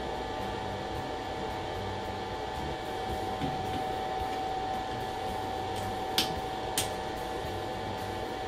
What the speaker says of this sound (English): the safe torque off input lets the motor coast to a stop